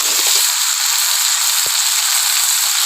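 Hot water poured into a pan of frying chicken curry with potatoes, producing a loud, steady sizzle and hiss throughout, with a few faint clinks of stirring.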